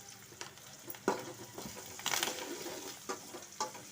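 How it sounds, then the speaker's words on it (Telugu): Green chillies, garlic, cumin seeds and curry leaves crackle and sizzle in hot oil, with intermittent stirring clicks and small spatters over a steady low frying hiss. "పచ్చిమిర్చి, ఎల్లిపాయ, జీలకర్ర అన్నీ వేసి కొంచెం కరివేపాకు వేసి వేగనివ్వాలి."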